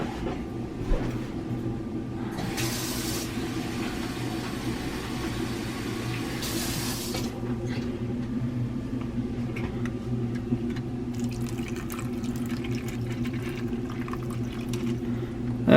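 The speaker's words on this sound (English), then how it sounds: "Let me add just a little bit more water in there." A little more water trickles into a roasting pan holding pork for the oven, a soft steady pour over constant low kitchen hum, with some faint clinks.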